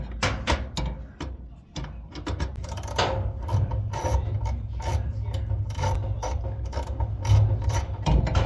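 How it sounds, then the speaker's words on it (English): Socket ratchet clicking in quick bursts as it loosens a fastener on a gas stove's bottom burner igniter, fast pawl ticks in uneven runs over faint mechanical rubbing, close up. "we're going to use a ratchet, and we're going to use a socket."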